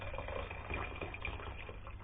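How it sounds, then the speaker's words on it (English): Water is poured into a pot of Oliaigua, a traditional Menorcan soup that has simmered for about two hours, giving a steady, soft liquid splash and bubbling alone, without talk. "Add a little bit more water."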